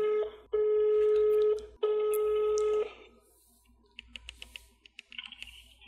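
A telephone call rings twice in long, steady tones, heard as a ringback through a phone line and fairly close. Soft clicks and light tapping follow after the rings stop.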